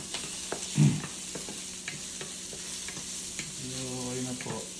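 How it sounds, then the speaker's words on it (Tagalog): Pork frying in a pan while being stirred, with soft sizzling and a few scraping stirs, one louder clatter early on; moderately quiet and close, no talking. "Prito muna po natin yung baboy."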